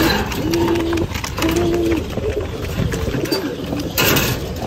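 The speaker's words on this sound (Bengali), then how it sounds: "এবার আমার ভিতরে ডাবলির কবুতরের খাবার দেওয়ার পালা" Pigeons coo close by in a loft while being fed, with repeated low throaty calls in short phrases over a busy background of rustling and scratching.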